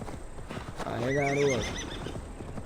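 A horse in Assassin's Creed Valhalla lets out a clear whinny in the middle, with faint hoof movement beneath and a voice speaking briefly over it.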